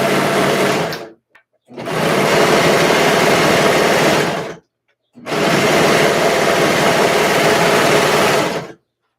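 A serger sews down the raw edge joining six fabric pieces for a baby dress, running in two long steady whirring bursts separated by a short pause and a brief stop, loud and close with no talk.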